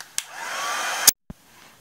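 A hair dryer blows steadily to dry a mixed media journal page, loud and close, then cuts off sharply with a click, followed by a brief knock.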